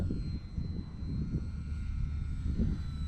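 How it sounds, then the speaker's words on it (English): Durafly Tundra RC plane flying low toward the listener, a steady low motor drone with wind rumble, continuous and moderately loud throughout. "I'm going to fly the plane right at me"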